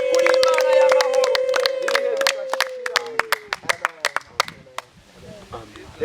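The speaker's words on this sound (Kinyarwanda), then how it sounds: "tugukomeye amashyi tukuvugirije kuri Imana y'amahoro" A church congregation claps hands together in a steady rhythm, loud and close. A sustained voice rings out over the first half, then the claps continue alone and thin out toward the end.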